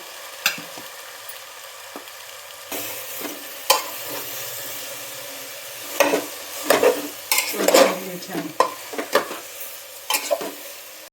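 Tomato sizzling in butter for pav bhaji, with a soft frying hiss beneath irregular, fairly loud scrapes and knocks of a spoon stirring it around the pan.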